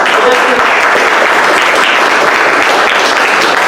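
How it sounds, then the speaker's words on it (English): A crowd at a rural-community holiday party gives a loud, sustained round of applause honoring a former congressman, dense clapping filling the whole stretch without pause. "a round of applause for former Congressman Sam Farr"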